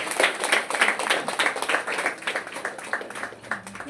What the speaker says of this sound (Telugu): ఒకసారి ఉజ్వల శ్రీధర్ గారికి చప్పట్లతో అభినందన చేస్తున్నాను.